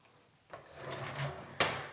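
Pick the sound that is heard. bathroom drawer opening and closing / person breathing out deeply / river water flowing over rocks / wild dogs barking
bathroom drawer opening and closing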